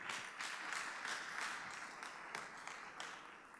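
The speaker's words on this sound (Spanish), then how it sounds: "vamos a recibirle con un cálido aplauso." A church congregation gives a warm round of applause to welcome a speaker, a quiet, distant patter of many hands clapping steadily and fading slightly toward the end.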